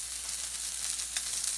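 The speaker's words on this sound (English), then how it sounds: "You hear the nice sizzle, and then we take our fish spatula and press down again" Salmon skin sizzles steadily in a hot pan, a dense close crackle with a slight swell near the end, no voices.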